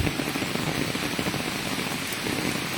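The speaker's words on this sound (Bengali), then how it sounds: "যেদিকে যাই শুধু বৃষ্টি আর বৃষ্টি" Steady, dense rainfall pattering on surfaces, a continuous wash of drops with no pauses, fairly loud and close.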